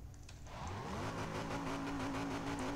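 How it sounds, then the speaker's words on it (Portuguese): Dodge Viper SRT10 engine in the racing game Need for Speed World: a low, steady roar with a rising rev that settles into a sustained drone, loud and continuous with no talk. "O ronco é lindo, cara."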